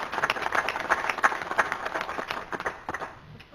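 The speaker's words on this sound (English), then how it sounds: "So let's give her a round of applause." A committee meeting audience gives a round of applause, a moderate crowd clapping steadily for a few seconds before thinning out toward the end, heard from within the room with no talking.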